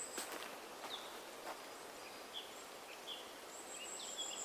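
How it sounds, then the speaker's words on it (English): Birds sing outdoors in the morning, scattered high chirps and short calls at moderate distance over a quiet rustling background. "Can you hear the birds?"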